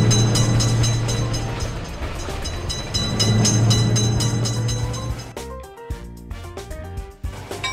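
A game train rolls past a railroad crossing, a loud continuous rumble with steady clatter for about five seconds, then cutting to quieter, choppier sounds.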